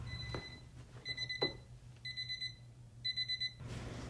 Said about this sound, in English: The alarm I've set to tell me when it's time to leave goes off.